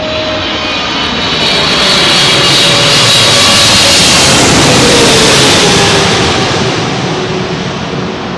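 Singapore Airlines jet passing low overhead on approach to runway 27L at London Heathrow at sunset, a loud, broad engine roar that swells and holds steady for several seconds, then eases slightly.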